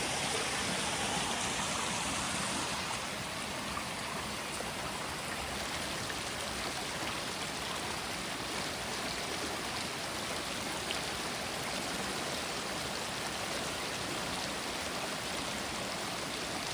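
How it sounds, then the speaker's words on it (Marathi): A swollen village stream carrying lots of water after heavy rain rushes steadily, a broad, even wash of flowing water heard close by without voices. "आम्हाला आता हा ओढा क्रॉस करायला लागेल. त्यालासुद्धा बराच पाणी आलेलं आहे."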